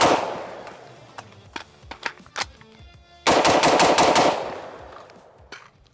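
A POF P415 Edge AR15 rifle fires outdoors: several sharp single shots spaced irregularly, then a loud rapid string of about eight close shots in quick succession, each echoing away, with no talking.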